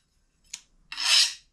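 A file rasps off the edges of a knife blade before heat treatment: one short, light scrape followed by a longer, louder rasping stroke, close and alone.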